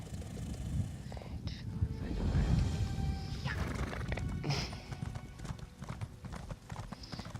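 Horse hooves clip-clop in The Elder Scrolls Online, with repeated hoofbeats, a whinny and a sharp impact. A player's voice talks quietly over the game sounds.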